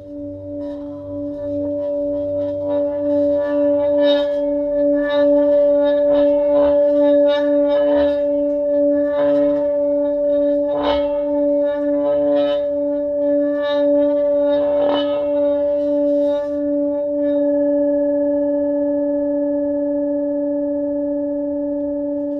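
A Tibetan singing bowl rubbed around its rim gives a steady, loud sustained ringing tone with layered overtones, swelling slightly with light scraping pulses before thinning out near the end.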